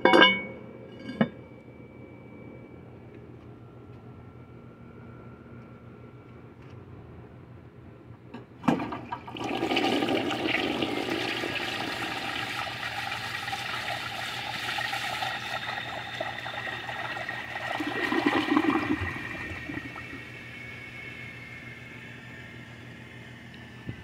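A 1959 Standard Cadet toilet flushes in a bathroom: a clink of the handle, then a surge of rushing water that swirls and drains for about ten seconds before trickling off as the tank refills quietly.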